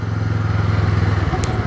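A 2017 Honda Rebel motorcycle engine on a test ride gives a steady, throbbing low rumble with a fast, even pulse, loud and close, with no talk.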